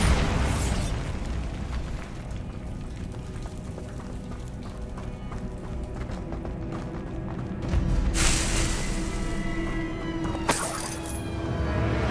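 A Bombarda spell going off in the wizarding game Hogwarts Legacy: a loud explosive burst at the start, a rumbling background, then two more sharp blasts later.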